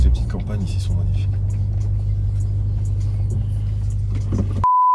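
A 700 hp Audi RS6 with a full Milltek decat exhaust line gives a steady deep engine rumble from inside the car, with people talking over it, before the sound cuts off abruptly.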